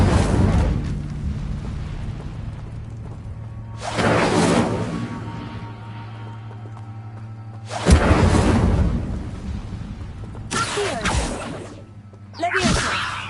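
Incendio fire spells cast in the video game Hogwarts Legacy, four loud bursts of whooshing, roaring flame that swell and fade over steady game ambience, each blast rumbling and crackling before dying down.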